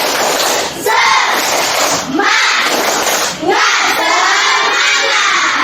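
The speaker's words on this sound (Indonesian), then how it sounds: "Biar tambah semangat, kita tepuk semangat dulu semua" A school class stands and performs a 'tepuk semangat' spirit clap chant, children shouting and clapping together in loud rhythmic bursts separated by short pauses.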